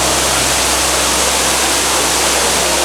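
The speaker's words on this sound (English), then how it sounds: "Yes, this is an amazing waterfall." Ruby Falls, an underground waterfall in a cave in Chattanooga, roars loud and close as a dense, unbroken rush of falling water, with no talking.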